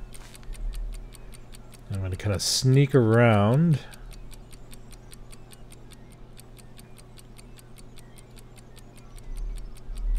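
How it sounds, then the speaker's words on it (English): A placed alarm clock ticks steadily and evenly throughout a Sir, You Are Being Hunted game scene, with someone speaking briefly over it partway through. "I'm going to whip out my alarm clock. I'm going to set it down there."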